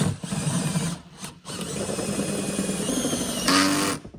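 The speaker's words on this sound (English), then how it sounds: "start with the drill moving fast, not a lot of pressure" A power drill driving a screw whirs steadily at high speed with little pressure, its motor note briefly cutting out twice before rising to a sharper whine near the end.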